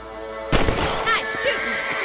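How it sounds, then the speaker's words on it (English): A rifle fires in Red Dead Redemption while rabbits are being hunted: one sharp, loud shot cracks and rolls away, then a quieter second report follows, with a voice briefly talking amid the gunfire. "Nice shooting!"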